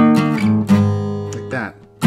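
Acoustic guitar chords, strummed in a few ringing bursts with sustained harmonic tones between strokes, close and fairly loud.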